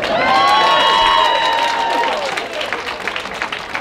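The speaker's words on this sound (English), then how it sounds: "You see how many of you are clapping right now?" Comedy club audience claps and cheers, with loud clapping mixed with shouts and whoops at first, then thinning into scattered applause.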